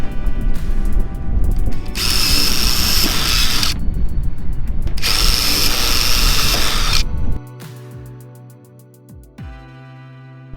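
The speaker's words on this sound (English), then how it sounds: "now that that's been drilled out" A power drill bores out a pop rivet on metal drypan roof flashing in two loud, high-pitched whining bursts, then stops, leaving quieter low hum and a few clinks.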